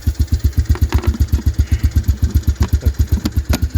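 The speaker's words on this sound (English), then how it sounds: "That was a good backfire." An old vehicle nicknamed Big Red idles roughly on a cold start in 14-degree weather, its engine chugging in a steady loud rhythm, with a few sharper pops standing out from the running exhaust.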